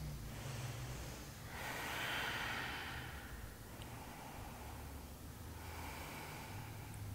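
Slow, deep breathing during a wrist-stretch yoga class, a long steady inhale swelling then easing away over several seconds, close and soft with no talk over it.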